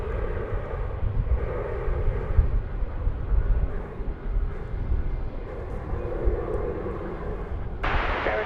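A plane bound for Springfield takes off from DFW Airport, a steady broad engine roar that holds level throughout.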